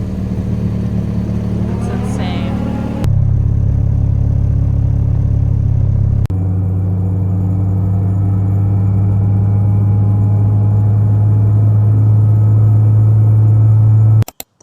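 A car drives at night with a steady, loud engine drone and road rumble that shifts abruptly in tone a couple of times, as if gears change, then cuts off at the end.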